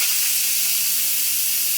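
Steam venting from an Instant Pot pressure cooker after cooking boiled eggs, a steady close hiss that holds evenly throughout.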